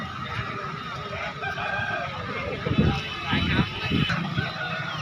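A rooster crows amid a busy Sunday poultry market, with people talking and general crowd noise throughout.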